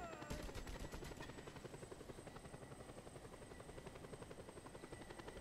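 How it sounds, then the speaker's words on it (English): A helicopter flies in the video game Just Cause 2, its rotor chop a steady, loud, rapid pulse with a whining engine tone running through the whole stretch. "Now we have a helicopter."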